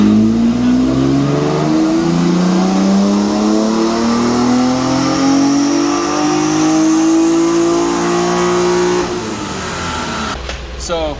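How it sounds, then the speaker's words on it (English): A drift car's engine, out of the car and with its oil still unchanged, runs a full-throttle dyno pull: one long, loud, continuous rev climbing steadily in pitch, then abruptly dropping off as the throttle closes. "I'm just gonna do a full throttle pull"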